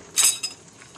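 A spoon stirs boiled pumpkin into coconut milk in a pot. It makes a bright scraping clink, then a second lighter clink, against a quiet kitchen background.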